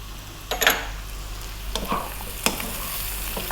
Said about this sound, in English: We're going to give that a little mix.